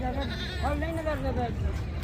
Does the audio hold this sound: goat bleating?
yes